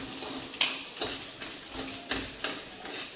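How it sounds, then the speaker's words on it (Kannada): Onions fry in a pan for creamy white sauce pasta, a soft, steady sizzle broken by rhythmic stirring scrapes and light clinks of a utensil against the pan. "ಸ್ವಲ್ಪ ಫ್ರೈ ಮಾಡಿಕೊಂಡು ಅದು ಬ್ರೌನ್ ಕಲರ್ ಚೇಂಜ್ ಆಗಬೇಕು"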